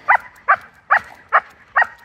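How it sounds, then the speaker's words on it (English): A husky barks loudly and close up in five evenly spaced sharp barks, about two every second, with no talk over them. "Loudest dog ever."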